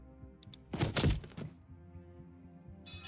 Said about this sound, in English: As your weapon falls pathetically to the floor